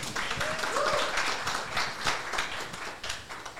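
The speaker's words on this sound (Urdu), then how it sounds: "فرسٹ آف آل تینوں کے تالیاں تو بجائیں یار آپ لوگ" Studio audience clapping for three guests on a Pakistani talk show, a steady patter of hand claps that fills the room from start to finish at moderate loudness.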